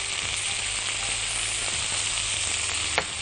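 Onions fry in a pan seasoned with pepper and salt, giving a steady close sizzle with a soft stir or scrape near the end.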